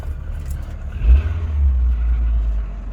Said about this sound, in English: Turn the key and the engine goes on, which is good news.